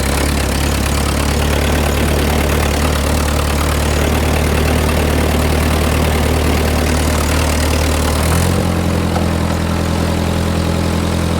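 A Ford 8N tractor engine runs loud and steady in fourth gear with a deep, constant drone; near the end its pitch shifts slightly lower as it settles.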